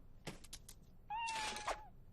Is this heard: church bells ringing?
no